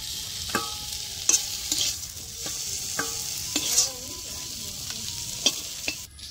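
Taro stems with dried fish and lemon juice stirred in a hot pan: a steady sizzle of frying under repeated scraping spatula strokes, close and moderately loud, with no voices.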